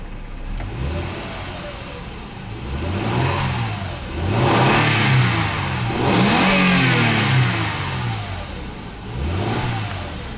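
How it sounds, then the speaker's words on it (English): A 2010 Mercedes ML350 engine revs repeatedly in several rising-and-falling surges, loud and fairly close, with the idle audible between blips and no talking. "we'll just go ahead and rev it a little bit."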